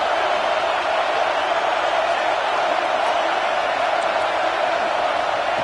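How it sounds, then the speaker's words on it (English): Roaring football stadium crowd at a Penn State vs Oklahoma game, a steady, dense wall of cheering and noise urging the defense before a red zone down, loud and sustained throughout. "This crowd is trying to inspire this defense to make a big red zone stop"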